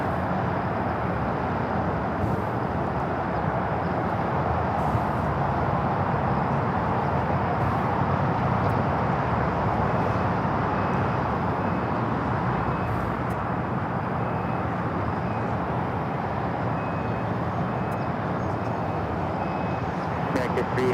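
A China Eastern Boeing 777-300ER jet pushes back at Los Angeles International Airport, its engines giving a steady broadband roar that stays loud and unbroken throughout, with airport background and radio chatter underneath.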